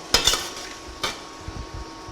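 A utensil stirs frying onions and green chilies in a pan, with sharp metallic scrapes and knocks over a soft background sizzle.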